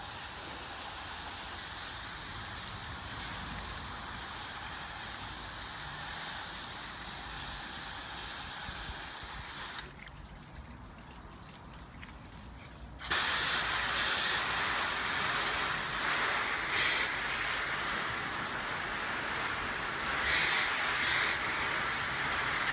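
Water spray rinses soap off a car as a steady loud hiss that cuts away briefly to a quieter gap and then returns even stronger, continuous and close.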